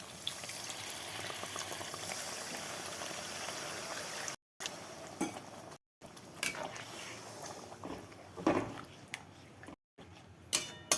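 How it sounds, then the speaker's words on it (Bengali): Masala gravy with added water bubbles in a pan, a soft steady simmering hiss with scattered small pops and faint utensil taps, fairly quiet and without talking. "ঝোলটা দেখো সুন্দর ফুটে উঠেছে"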